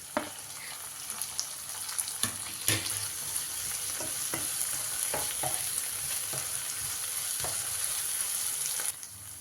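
Tomato and spices sizzle steadily in a pan for egg fried rice, with intermittent scrapes and clinks of a spatula stirring, close and moderately quiet, no talking.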